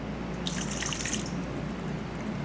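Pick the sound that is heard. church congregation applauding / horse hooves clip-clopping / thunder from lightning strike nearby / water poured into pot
water poured into pot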